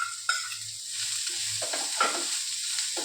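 Four chopped onions frying in a generous amount of oil, giving a constant close sizzle with a few stirring scrapes and a low hum underneath, with no talking.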